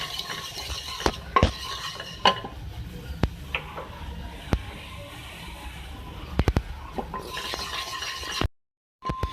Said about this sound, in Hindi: देखिए हल्दी डाल के मैंने फ्राई किया।